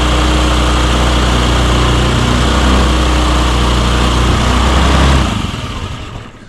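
Honda Metropolitan scooter idling slightly high, a loud, steady buzzing small-engine drone up close that drops away near the end as the revs fall.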